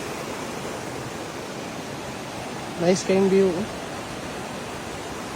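Curtain Falls roars as a steady, broad hiss of falling water heard from a nearby bridge pathway, with a person briefly speaking over it.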